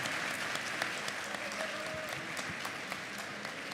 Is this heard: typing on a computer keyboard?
no